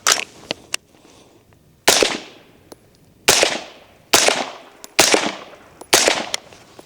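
Loud rifle shots fired through a Griffin Armament Paladin 5 suppressor, five sharp reports with decaying echoes spaced about a second apart, preceded by a few lighter clicks and knocks.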